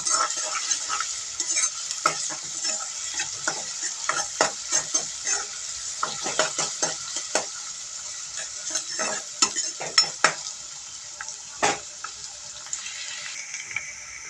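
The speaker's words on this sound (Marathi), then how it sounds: "कांदा आपल्याला छान गुलाबी रंगावर फ्राय करून घ्यायचा आहे" Sliced onion frying and being stirred in a pan until pink, with steady sizzle and repeated scraping stir strokes throughout, close and fairly loud, no talking.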